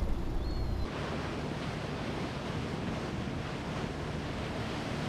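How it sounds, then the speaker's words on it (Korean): Sea waves off Korea's Dokdo and Ulleungdo islands, with the swell calmer than in the morning, wash in a continuous broad roar mixed with wind buffeting the microphone, as if heard from a boat, with no voices. "오전에 비해 너울성 파도가 줄어들어 비교적 잔잔해진 바다"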